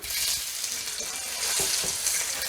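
So-tteok skewers of rice cakes and sausages fry in hot oil in a pan, a steady close crackling sizzle with occasional stirring or shifting sounds and no speech.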